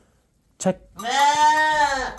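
A Welsh black-nosed ram with large horns gives one drawn-out, wavering bleat, heard close, just after a short human call.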